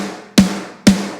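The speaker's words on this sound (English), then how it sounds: "I think it was this one, the Paduk snare" Two hits on a thick Paduk wood snare drum, tuned low, each a sharp broadband crack with a short low-pitched ring, spaced about half a second apart with nothing else sounding.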